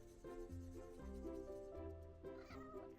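A cat meows repeatedly in Ubisoft's Imagine video game, a string of short tonal mews over a faint game background sound, each call distinct and fairly close-sounding, with no voices.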